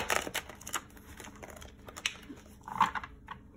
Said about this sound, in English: Tried to look away before I was done shuffling.